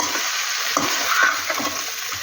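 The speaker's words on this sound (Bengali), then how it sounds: "এবার ভালো করে নাড়িয়ে চাড়িয়ে নিয়ে মশলাটার সাথে ভালোভাবে মেশাতে হবে" Fried vegetables being stirred with spices in a pan for Bengali shukto: a continuous bright sizzle with repeated scraping strokes of the spoon, close and fairly loud.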